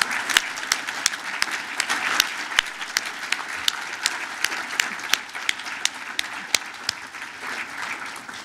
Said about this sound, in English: Please, let's give everyone a big round of applause.